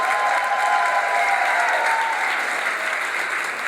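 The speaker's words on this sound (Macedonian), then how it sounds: "Ајде, уште еден аплауз голем за Наташа." Sustained audience applause at a Skopje Pride Weekend queer storytelling event, steady and dense throughout with no pauses.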